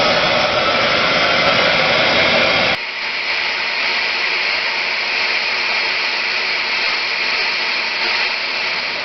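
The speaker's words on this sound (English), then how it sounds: "This is my little heat gun I normally use for heat shrink tubing, but it works good for preheating like this too." A small handheld heat gun, normally used for heat shrink tubing, blows a loud, steady roaring hiss close by while preheating a circuit board in a TRS-80 Model 100, its pitch dropping abruptly to a lower setting partway through.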